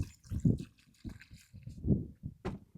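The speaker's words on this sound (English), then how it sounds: "put some water in that mug" Spring water poured from a bottle into a mug outdoors, a few uneven gurgling splashes in short bursts, close and moderately loud.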